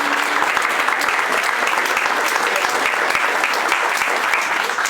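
Dense, steady applause from an audience at a guild ceremony of the Munster guild, sustained and fairly loud throughout with no break.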